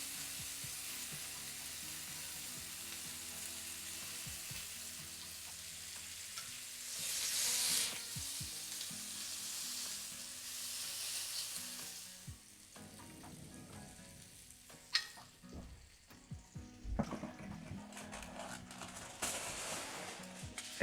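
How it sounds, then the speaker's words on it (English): Lamb fat crackles and sizzles steadily in a hot pan, with occasional louder pops and scraping stirs. "get a little sizzle on that fat"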